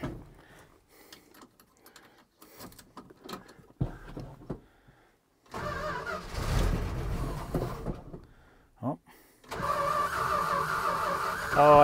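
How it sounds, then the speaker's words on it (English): Starter cranking on a 1969 Plymouth Barracuda engine, heard in short uneven bursts of whirring and grinding between pauses and clunks, fairly close, with a steadier mechanical drone toward the end. "starter makes funny noises."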